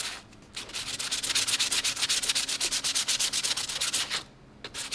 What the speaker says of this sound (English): I'm going to use a new piece of sandpaper.